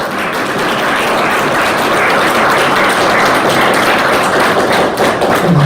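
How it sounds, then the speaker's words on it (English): A large crowd applauds steadily at a Frederick Douglass reading event, a dense, sustained wash of clapping with no pauses, loud and close. "Again, another round of applause for Miss Yvonne Brown."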